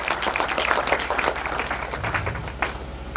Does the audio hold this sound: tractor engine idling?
no